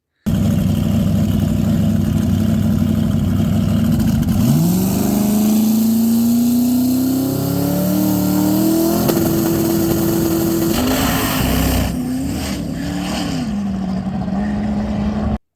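A Chevrolet Nova making a pass on a no-prep drag strip roars loudly and close, its engine climbing steadily in pitch under hard acceleration, then easing and revving again near the end.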